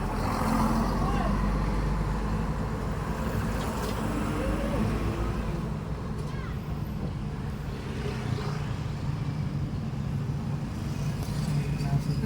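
Low steady rumble of road traffic crawling bumper to bumper in a traffic jam, continuous engine drone from nearby trucks and cars heard from inside a vehicle, with voices talking over it.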